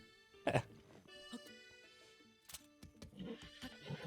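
A horse in the video game The Legend of Zelda: Breath of the Wild gives a short, loud whinny near the start, followed by quieter snorts and game sounds.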